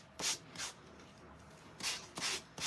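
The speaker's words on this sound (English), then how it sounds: "sanding off those edges." A sanding block rubs against the edges of a photo cube in short, brisk strokes, five quiet scraping passes with pauses between them.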